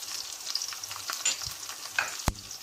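Cumin seeds fry in hot oil in a pan while making a brinjal gravy, a soft close sizzle with light stirring scrapes and one sharp clink near the end.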